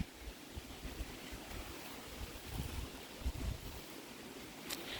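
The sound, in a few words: wind blowing in a garden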